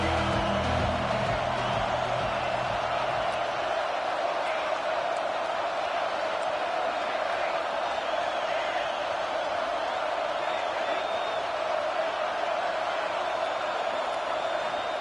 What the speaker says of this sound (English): This crowd knows they have to bring it in big moments, and one of those has arrived.